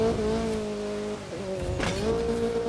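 A Mazda MX-5 Miata NA in the video game The Crew 2 brakes through a turn, its steady engine drone dipping and shifting pitch with a brief tire scrub before climbing again, loud and continuous.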